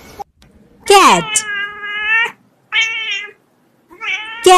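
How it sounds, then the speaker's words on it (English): A domestic cat meows three times in close succession, each call loud and drawn out, heard alone and up close. "Cat,"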